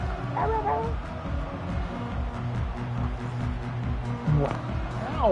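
Puppy barking and whimpering indoors, repeated yips and whiny cries over continuous background television sound of a college football broadcast.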